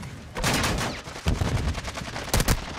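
Gunfire rattles through a Call of Duty: Modern Warfare II match at a farm, loud close bursts of rapid shots in short clusters separated by brief pauses.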